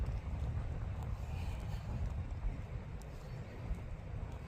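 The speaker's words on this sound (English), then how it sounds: "Sorry, it's a little windy." Strong wind gusting across the microphone outdoors while someone walks, a continuous loud low rumble with buffeting surges throughout, no other clear sounds.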